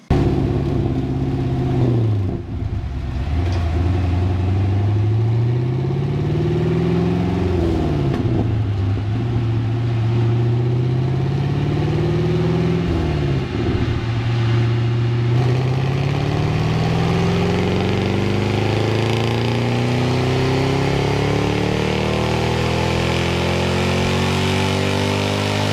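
A Pontiac GTO engine revs hard on a dyno, loud and close, climbing repeatedly through rising pulls with brief drops between, then one long sustained climb to high revs.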